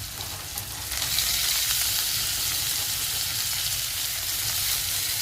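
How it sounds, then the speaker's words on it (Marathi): Steady, loud sizzling of herbs frying in hot oil, a dense crackling hiss that jumps up after the first second and holds evenly to the end, no voices. "कोथिंबीर तेलात परतल्याने चांगली फोडणी बसते"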